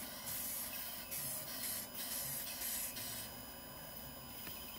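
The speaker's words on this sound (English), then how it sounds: "before I start spraying. And I'm just going to do light little coats on it to make sure that we get them covered real well" Aerosol spray paint hissing onto an RV in light coats, several steady bursts of broadband hiss with brief pauses between them, close and fairly loud with no talking.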